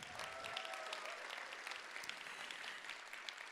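Audience applause at a live debate on health as a technology industry, a steady dense wash of clapping from a seated crowd, moderately distant and even throughout.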